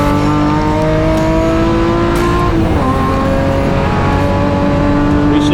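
Pepper Shield BMW race car in the BMW M Performance Parts Race Series passing on track at a festival event, a loud sustained engine drone with a pitch shift as it goes by, continuous and close throughout.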